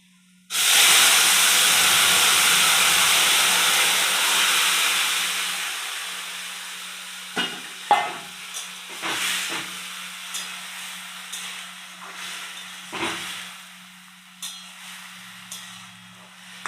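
Vegetables tipped into a hot pan burst into a loud, steady sizzle that slowly fades into softer crackling and a few sharp spits and clatters of stirring.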